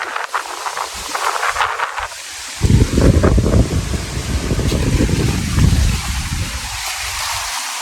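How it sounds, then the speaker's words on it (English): Strong wind in the aftermath of Hurricane Nicole buffets the microphone in a park near water, producing loud, rumbling gusts that swell and ease over a constant airy hiss. "and it's still windy"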